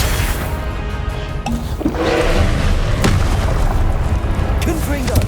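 Booming spell explosions from the Confringo curse in Hogwarts Legacy, heavy blasts and thuds going off amid game noise, with a player talking over them.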